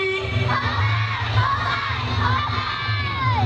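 Children in the audience at a bird show in a Kuala Lumpur bird park shout and cheer for a parrot, a loud, continuous chorus of high young voices yelling together.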